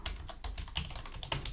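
Rapid clicking keystrokes on a computer keyboard as a YouTube video title is typed, close and steady, with no talk.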